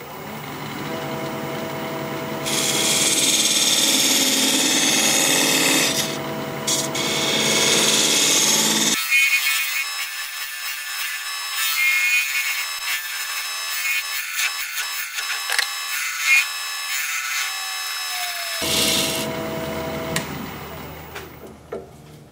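Wood bowl turning on a lathe with a 3/8 inch bowl gouge, a steady scraping, hissing cut that stops for a stretch of quieter machine hum with light tool contacts, then resumes.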